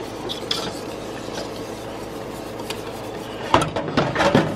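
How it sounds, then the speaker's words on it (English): Beer cheese is stirred in a pot with a spatula, a soft continuous scraping and faint sizzle building into a burst of louder scrapes and clinks near the end. "Just keep stirring."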